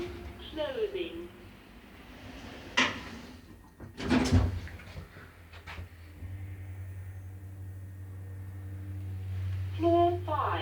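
Lift doors in an Eastleigh building sliding shut, with a couple of close thuds as they meet, then a steady low hum as the lift car sits ready to move.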